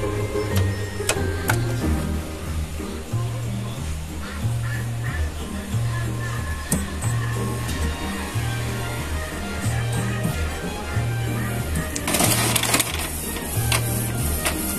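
A printer prints on homemade tracing paper, its mechanism feeding and running with a regular pulsing hum and clicking, steady and fairly loud, with brief louder rustles near the end.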